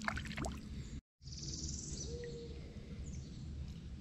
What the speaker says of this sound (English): Them owls are hollering